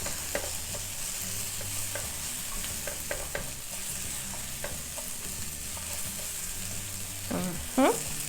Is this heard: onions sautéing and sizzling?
yes